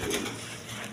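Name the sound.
young pigeons cooing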